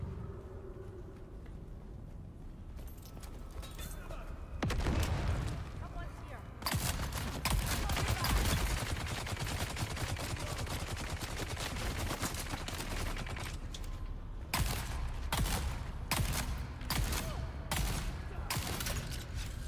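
Enemy gunfire in the desert shooter game Dune Awakening, dense bursts of shots crackling in waves over a steady background rumble, with louder clusters arriving near the end.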